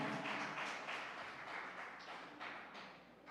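A congregation at a church service applauds together, a steady, dense patter of clapping that holds through the moment and fades slightly toward the end, with no talk over it.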